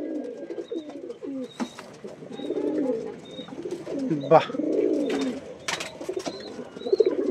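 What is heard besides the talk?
Fullshira pigeon pair cooing after release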